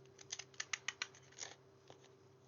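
Scissors snip through card for a slimline panel card in a quiet room, a quick run of about eight close, crisp cuts followed by a softer snip and a final isolated cut.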